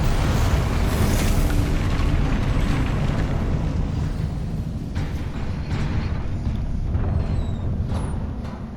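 A Confringo spell blast in Hogwarts Legacy, a deep rumbling explosion that starts loud and slowly fades over several seconds into a long roaring tail.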